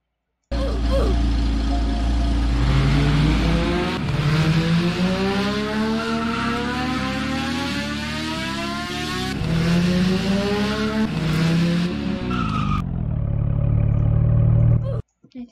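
A video game Porsche 911 Turbo S engine revs and climbs through gears repeatedly, loud and close, with rising whines and brief shifts, ending in a lower idle.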